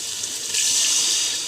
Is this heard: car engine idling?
no